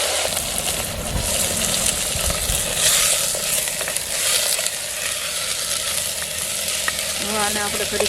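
Greens hit hot oil with browned garlic and asafoetida in a village kitchen, giving a loud, steady sizzle and crackle throughout, with stirring and a brief voice near the end.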